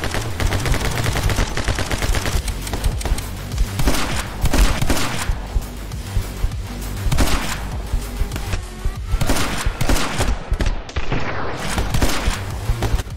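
Dense enemy gunfire from the action game My Friend Pedro, loud and continuous with rapid overlapping shots and bursts throughout, heavy low thumps beneath the volleys, no voices.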